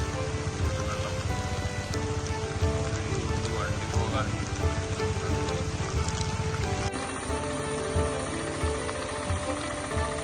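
Heavy monsoon rain pours steadily onto flooded roads and fields, a dense, continuous roar of drops close by that holds at the same strong level throughout with no pauses.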